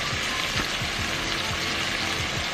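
Onion, garlic and smoked paprika fry in a pan with a steady, close, continuous sizzle and light crackling throughout, no voices.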